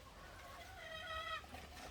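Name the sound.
chickens clucking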